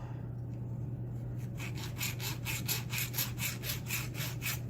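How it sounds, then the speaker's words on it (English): Hacksaw starting a marking cut in a lock part for a homemade challenge lock: after a quiet start, steady back-and-forth rasping strokes in an even rhythm, close and moderately loud over a constant low hum. "the best way I found to mark these is to take my hacksaw"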